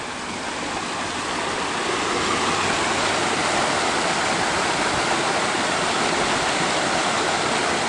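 A waterfall cascades down through trees along a forest trail, a steady, loud, full rush of falling water with no other sounds over it.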